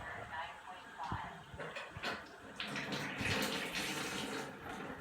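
Water flows steadily from a Kangen water machine in a soft, continuous splashing stream, heard faintly and close with occasional small knocks.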